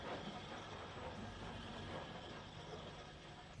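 A C-Class steam locomotive hauling a down goods train rolls past in steady, continuous rumble with broadband hiss and faint rhythmic wheel clatter, sustained and fairly close throughout, with no voices.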